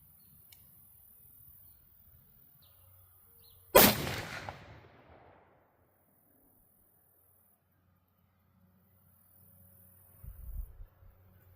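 A single loud shotgun blast sounds nearby in an otherwise quiet outdoor setting, and its report decays over about a second, followed by faint low rumbling later.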